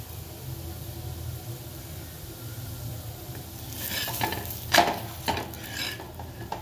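Pumpkin bhakri roasting on a griddle, a faint low hiss at first, then soft sizzling with spatula scrapes and a few light clinks in the second half.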